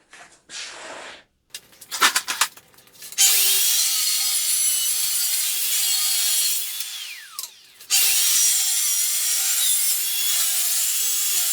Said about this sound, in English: you want to start your blade before you get into the wood